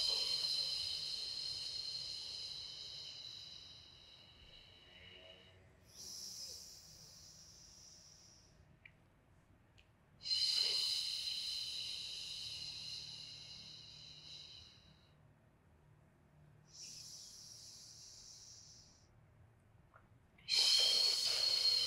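Slow breathing during a beginner pre-Pilates exercise, with long airy exhales and inhales alternating in cycles of several seconds, soft and close with hissy breath noise and no talking.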